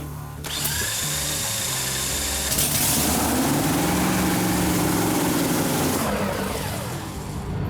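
A drag racing dragster's V8 engine fires after a manual starter cranks it, then settles into a loud, rough, steady roar that carries on alone without any voices.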